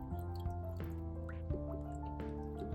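Water flowing over a heavy glass ball in a garden water ornament, soft trickling and dripping with a steady low hum beneath, faint and close.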